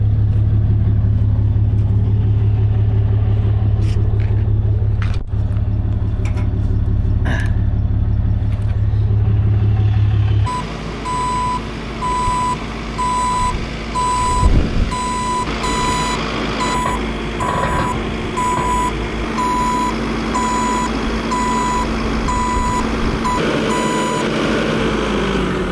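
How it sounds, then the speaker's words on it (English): Skid steer loader driving with a rumbling engine, then reversing with a steady series of loud, evenly spaced backup beeps over the motor for the rest of the clip. "Get the skid steer on there."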